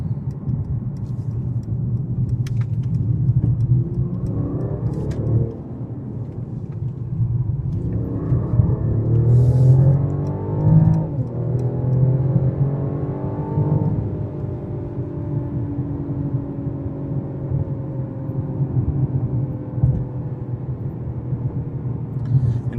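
A 2019 Mercedes CLS450 4Matic drives along, its engine a steady low rumble that swells through several accelerations and gear changes, heard from inside the cabin with no talk.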